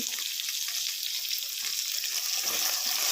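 Ivy gourds frying in a pan with onion masala, a steady close hiss of bright sizzling that carries on without break at an even level, no talking.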